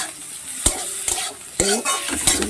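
Garlic paste fries in oil in a pan while being stirred for a chili fish dish: a loud, close sizzle broken by several sharp scrapes and knocks of the spoon against the pan.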